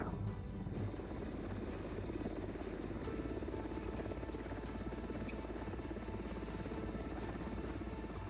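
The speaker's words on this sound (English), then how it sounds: "The helicopter can be used as a platform to deliver people to inaccessible places" Helicopter in flight, a continuous low rotor drone with a rapid throbbing pulse, steady and moderately loud throughout with no voices.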